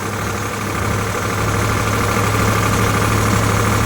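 Sonalika RX47 4WD tractor engine running steadily with a rotavator attached, a loud continuous mid-low drone with a constant hum and vibration and no break throughout.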